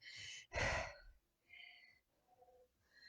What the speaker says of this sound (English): now you hear me heavy breathing at you when I'm not counting or chatting